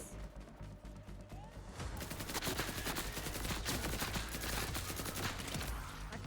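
Automated turrets in the Borderlands video game unleash continuous rapid gunfire, a dense, loud stream of overlapping shots sustained throughout with no pause, mixed with crashing impacts.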